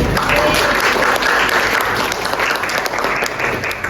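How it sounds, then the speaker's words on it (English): A classroom of students applauds a peer at a microteaching session, steady dense clapping filling the whole stretch, loud and close with no pauses. "Give applause to Safira."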